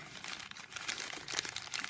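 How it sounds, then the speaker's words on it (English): Material is crumpled by hand into a body shape for a papier-mâché wire armature, a close, faint, continuous crinkling and crunching with small bursts, no voices. "Just crumple it so it looks kind of like the shape that you want your body to be"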